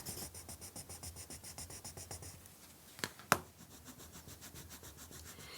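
Quick, regular back-and-forth scratching of colour pencil on paper while blending, soft and close, pausing briefly for a couple of sharper taps before the strokes resume.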